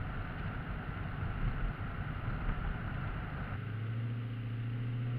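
Dodge Charger 392 Scat Pack V8 cruising in 7th gear at about 45 mph, giving a steady low engine drone with road and cabin rumble, continuous and even with no one talking.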